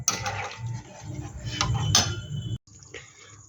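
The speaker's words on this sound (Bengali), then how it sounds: "এবার এটা ঢাকা দিয়ে আমি 5 মিনিট রান্না করে নেব" A lid goes onto a pot of prawns cooking with water in a home kitchen, making a few metallic clinks and scrapes, followed by a short silence and then faint clatter.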